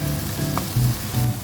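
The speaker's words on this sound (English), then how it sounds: "Saute it until the raw smell of the ginger garlic paste evaporates." Ginger garlic paste sauteing in a pan, a steady close sizzle and fry with light stirring over it.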